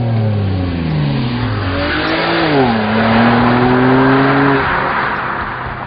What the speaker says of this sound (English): The engine breathes in through a variable intake system and exhales through a free-flowing sport-tuned exhaust system.